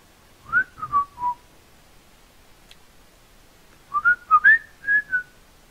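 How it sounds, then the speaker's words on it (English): Someone whistles short tonal phrases, first a brief falling run of notes, then after a pause a longer warbling sequence, clear and close over quiet background. "I was expecting you to whistle more."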